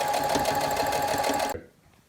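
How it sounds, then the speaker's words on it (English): A sewing machine stitching the sides of a fabric face mask, a fast steady whirring rattle that runs for about a second and a half and then stops abruptly, leaving quiet. "We just sewed the sides of the mask."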